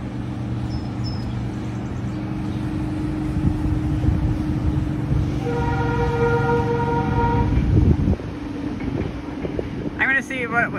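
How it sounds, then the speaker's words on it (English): A train horn sounds near the Schuylkill River, a sustained multi-tone blast rising over wind and water noise for a few seconds, then cutting off abruptly, with a brief bird-like chirp at the end. "Oh, that horn was the train."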